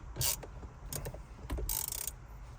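A wrench clicks and ratchets in short, uneven bursts while tightening the nut on a new steering wheel in a Cadillac CTS-V V2, close and fairly quiet.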